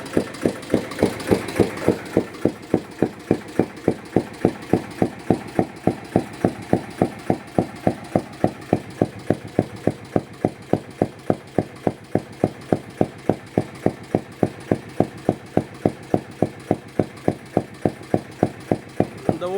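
A Royal Enfield Bullet motorcycle with a diesel engine idles nearby, its steady, loud, evenly spaced thumping exhaust beats running alone for the whole stretch after a brief rev at the start.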